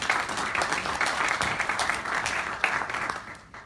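Audience applause fills a lecture hall after an introduction at a talk on the Illinois pension crisis, steady moderate clapping from a crowd that thins out toward the end, with no clear speech over it.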